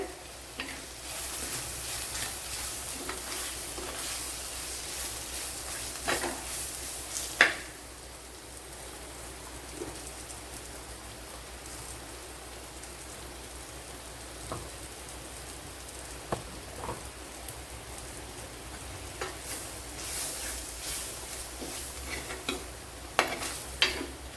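Ground masala paste and onions fry in a pan for a horse mackerel (vankada) fish curry, a steady broadband sizzle with a spoon scraping and stirring at intervals, close and continuous with no voices.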